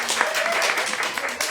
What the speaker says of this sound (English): But a big cheer for Verlin as well.